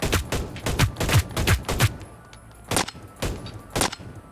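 Gunfire in the online shooter game Hyper Scape: a rapid burst of loud, close shots, then a pause and a few more single shots, with the game's hit sounds mixed in.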